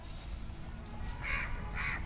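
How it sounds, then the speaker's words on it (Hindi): A crow caws twice outdoors, two short, fairly loud harsh calls about half a second apart over a low rumbling background. "कौआ की आवाज़ से ये सब सतर्क हो जाते हैं कि कोई सूचना दे रहा है"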